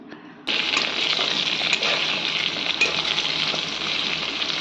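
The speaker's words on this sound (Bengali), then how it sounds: "সামান্য পরিমাণে হলুদ দিয়ে ভালো করে নেড়ে চেড়ে ফ্রাই করে নিচ্ছি" Pointed gourd pieces frying in hot oil with a little turmeric, starting abruptly in a loud, steady sizzle with occasional stirring scrapes and crackles, close up and without talk.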